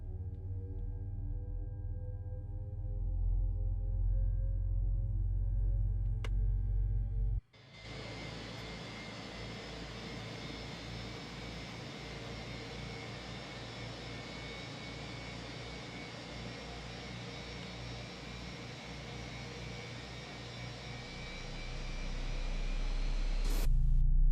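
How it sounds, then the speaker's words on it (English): A low mechanical rumble and hum give way to a sudden loud rushing roar as an Airbus A320 jet engine spools up in a flight simulator, holding steady and growing toward the end. "we can have a look at the engine and hear the engine"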